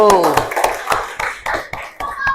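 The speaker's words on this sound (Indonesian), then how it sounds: "tepuk tangan untuk kelompok 1" A classroom group gives applause for the first presenting group, a burst of many hands clapping in quick uneven rhythm, close and fairly loud, with children's voices mixed in.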